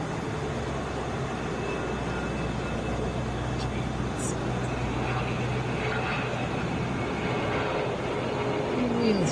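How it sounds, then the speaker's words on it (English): Delta Airbus A321 arriving from Boston and landing at Atlanta, a broad steady roar of jet engines that stays loud throughout, with a faint whine at the end and talk over it. "This is Delta 456 coming in from Boston, Airbus A321."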